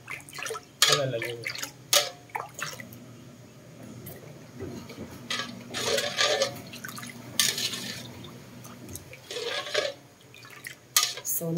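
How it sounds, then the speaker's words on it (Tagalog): Two cups of water poured into a container of cornstarch in a home kitchen, with splashing, drips and clinks of dishes in bursts among softer handling sounds. "Lalagyan lang natin to ng 2 cups ng tubig."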